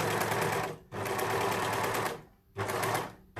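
An overlocker sewing machine stitches a rolled hem on fabric, a loud, fast mechanical whirring close by that runs in two long bursts, pauses briefly, then starts again.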